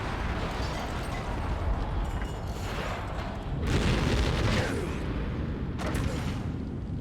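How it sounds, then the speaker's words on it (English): Explosions in the video game Metal Gear Solid, a dense, sustained rumble of booms with louder bursts around the middle and near the end, heavy low-end throughout. "That's a lot of explosions. Very loud, I'm sure."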